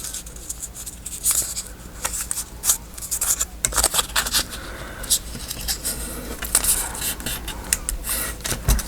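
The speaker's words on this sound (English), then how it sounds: "we will fold our ticket this way" Paper ticket folded by hand, with close crisp creasing, rubbing and tapping in quick uneven bursts over several seconds.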